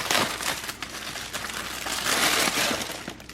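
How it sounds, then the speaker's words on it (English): Scissors snipping through the plastic packaging of Italian custard cream puffs, a near, continuous crinkling and crackling with a few sharper cuts, heard on its own without talk. "I'm just going to use scissors, make it quicker."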